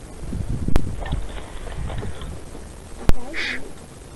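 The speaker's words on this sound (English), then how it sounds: "The horse. It was little like a short gallop." A horse's hooves clip-clop in a short, faint gallop during a paranormal investigation recording, with a couple of sharp clicks and soft background noise around them.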